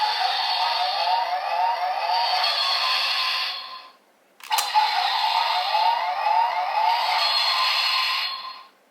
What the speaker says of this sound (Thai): และนี่ก็เป็นเสียงในการแปลงร่างเป็นเดกะมาสเตอร์เมื่อกดที่ด้านบนอีกหนึ่งครั้ง ก็จะเป็นเสียงไซเรน